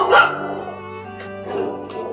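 A dog barks and yips inside a Tesla car, giving a couple of short, fairly close sharp calls against a steady background of music.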